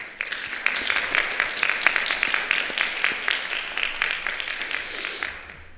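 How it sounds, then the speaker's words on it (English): An audience at an undergraduate research poster symposium gives a round of applause, rapid clapping that holds steady for several seconds before tapering off. "I'd like to give them a little round of applause."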